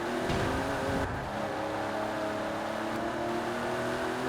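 A GMC Syclone in Forza Horizon 4 drives with its engine droning at a steady, loud pitch, and the tone shifts in the middle.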